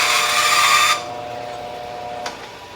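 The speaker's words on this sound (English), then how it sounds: "Be so careful when you use a bandsaw." A bandsaw cutting through wood, a loud high whining rip for about a second that stops abruptly, leaving the motor's faint hum and one short knock.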